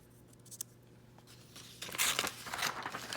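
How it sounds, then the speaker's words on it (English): Scissors snipping a small piece of paper for a collage, a brief soft click followed by a louder burst of crisp paper cutting and rustling, close by with no talk. "Cut another little piece."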